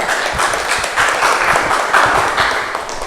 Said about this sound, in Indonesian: Kita aplaus ya